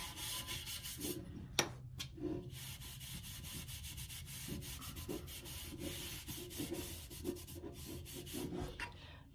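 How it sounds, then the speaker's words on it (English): Dark wax is rubbed onto mint-painted home decor with a cloth or brush, making continuous quiet scrubbing and rubbing strokes with occasional soft knocks, close by, with no talking. "I'm going to put some dark wax on it to kind of tone it down."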